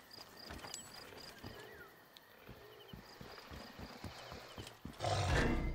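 Horse in the Assassin's Creed Origins video game, clip-clopping hooves and snorts, then a loud burst of struggle near the end as it is attacked.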